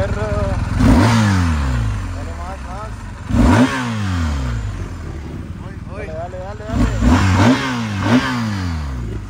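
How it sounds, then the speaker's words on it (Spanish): A motorcycle engine revved hard several times in short repeated bursts, each rising and falling in pitch, loud and close, with voices talking in between. "Me sale unos acelerones, perro."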